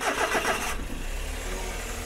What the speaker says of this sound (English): So I will start the engine,